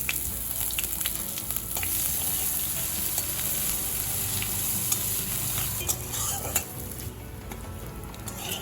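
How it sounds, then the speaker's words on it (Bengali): Grated ginger fries in hot oil with whole spice tempering in a kadai, a constant close sizzle with occasional spoon scrapes against the pan. "আদা ভাজা হয়ে গেছে"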